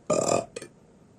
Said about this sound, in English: you know when you burp that you've eaten a decent amount of butter and cheese